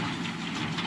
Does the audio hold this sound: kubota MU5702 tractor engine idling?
yes